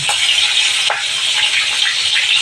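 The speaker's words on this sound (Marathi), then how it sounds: "ओली मिरची टाकायची चांगली खरपूस भाजून घ्यायची" Green chillies fry crisp in hot oil in a pan, giving a steady close hiss and sizzle with a few sharp stirring clicks and no voices.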